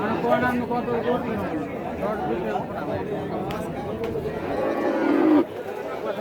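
Cows low and moo at the Hazratpur cattle market amid a busy crowd of people chattering nearby, with steady market hubbub throughout.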